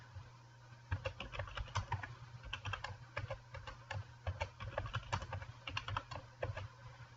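Someone types a password on a computer keyboard: a quick, uneven run of close key clicks over a low steady electrical hum.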